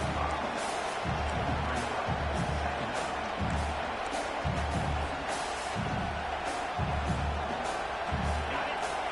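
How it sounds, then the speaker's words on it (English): Loud stadium crowd roaring steadily at a football game, a dense wash of cheering with occasional thumps and bursts rising above it. "This crowd bringing the energy and noise early."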